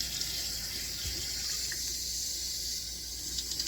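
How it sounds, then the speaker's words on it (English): Tap water runs steadily into a kitchen sink as a continuous close hiss, with one faint bump partway through and no talking. "You definitely don't need your water running high because it will start to splash everywhere."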